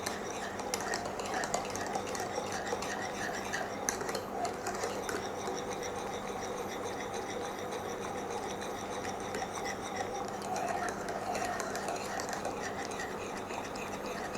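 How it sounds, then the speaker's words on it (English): Thick butterscotch sauce bubbles and boils steadily in a pan, a constant soft popping and sizzling texture with no talking. "So it's just bubbling up and then boiling a bit."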